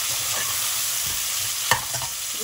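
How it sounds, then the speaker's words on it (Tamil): Onions sautéing with a little salt in a pan for Madras-style prawn biryani make a steady close sizzle, with one sharp spoon scrape partway through and a few softer stirring clinks. "லைட்டாக உப்பு சேர்த்து வெங்காயத்தை நல்லா வதக்கிக்கலாம்."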